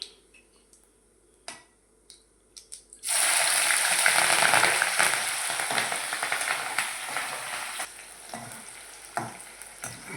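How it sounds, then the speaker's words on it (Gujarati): Green chillies drop into a hot pan on a gas stove while batata poha is being made, setting off a sudden loud sizzle that gradually settles, with a few stirring taps before and during the frying. "હવે લીલા મરચાં નાખી દઈએ."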